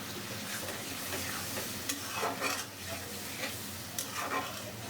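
Spice paste frying and being stirred in fish oil in a pan, a continuous soft sizzle with scraping strokes of a spoon, close and fairly quiet.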